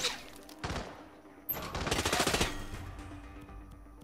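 Gunfire in the stealth action video game Hitman: several loud bursts of automatic fire with short gaps between them, then a longer rattling volley, set against a quiet background.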